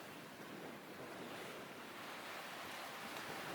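Ocean waves and wind rush steadily around a sailboat under way in tall, somewhat rough seas near the Exumas on the route toward Bimini, a constant loud broadband wash with no talking.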